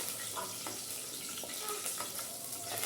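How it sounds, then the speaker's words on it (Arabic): Garlic fries in a hot pan while being stirred, giving a steady, close sizzle with faint scraping of the spoon, no talk over it. "قلب التومه، لونها بس يبقى ذهبي"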